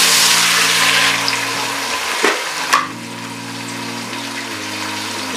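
Three tomatoes go into a masala of garlic paste frying in a pan for mutton pulao, a loud steady sizzle with a brief disturbance as they drop in, close and with no talk.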